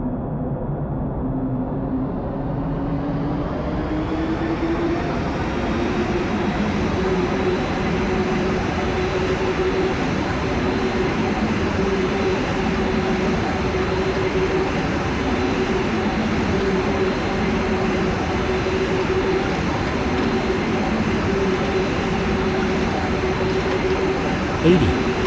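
An overloaded Airbus A340-200 taking off in a flight simulator game: a steady, loud jet engine roar that builds in pitch over the first few seconds, then holds a sustained droning whine and rumble through the takeoff run.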